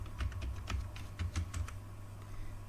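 Fingers tap out a password on a computer keyboard in quick, uneven bursts of crisp key clicks, close and clear with no talking.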